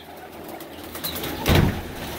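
Pigeons in a loft holding young birds, cooing softly and close by, with a brief louder flutter-like burst partway through; no one speaks.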